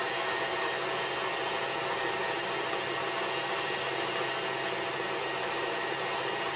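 An electric mixer beats buttercream icing with a steady, unbroken high whir, loud and close throughout, with no pauses or voices.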